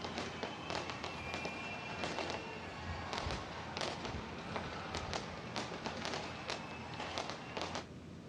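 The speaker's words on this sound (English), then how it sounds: "Sydney's New Year's Eve fireworks took centre stage" Repeated sharp bangs and crackles of Sydney's New Year's Eve fireworks, irregularly spaced over a constant crowd-like background roar, moderately distant.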